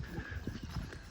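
Horse hooves clip-clop in quick, uneven steps close by, from horses stirred up around a fight between two stallions, with no talk over them.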